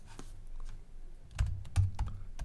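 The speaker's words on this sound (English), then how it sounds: "So let me type something." A few keystrokes tap on a computer keyboard, soft and close, with sparse irregular clicks and a couple of louder presses near the end.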